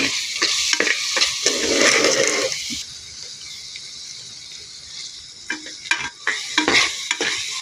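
Spices stir-fried with garam masala powder in a pan, loud scraping and stirring with sizzling at first, then a quieter fry broken by sharp spatula knocks near the end.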